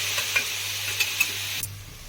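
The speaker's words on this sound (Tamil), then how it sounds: "ஃபர்ஸ்ட் வெறும் கடாயில நம்ம அரைச்சி வச்சிருக்க வெந்தயக்கீரையும் புதினாவையும் நல்லா வதக்கிக்கலாம்" Ground fenugreek leaves and mint are sautéed in a dry kadai, giving a light sizzle with a few scraping stirs and clicks before stopping abruptly.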